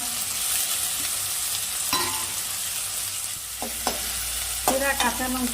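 Slit green chilies fry with chopped tomatoes in a pan for pea ghugni, a continuous close sizzle broken by a few sharp scraping stirs of a spatula toward the end.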